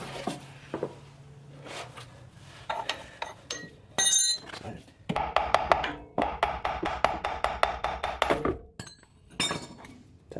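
A ratchet turning 17mm drive shaft bolts on a Nissan 350z, heard as close, rapid clicking bursts with metallic clinks between them and brief pauses.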